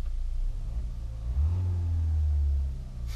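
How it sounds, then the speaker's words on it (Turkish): A Renault Megane Sedan engine idles with a low rumble, swelling briefly in a gentle rev before settling back, no voices present. "Motor sesi var bunda."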